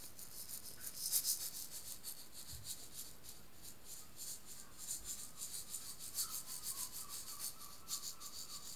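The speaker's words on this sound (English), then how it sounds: "Bring your attention to the sound of the rattle." A rattle shaken slowly and softly during a reiki healing session, giving a steady, close, hissing rustle with brighter bursts near the start and again toward the end, no voices.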